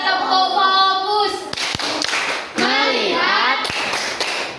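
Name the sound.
classroom students clapping a focus clap routine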